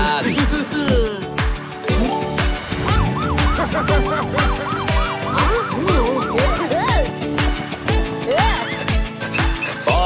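A wailing police car siren rises and falls repeatedly over an upbeat children's song with a steady thumping beat, the siren loud and close.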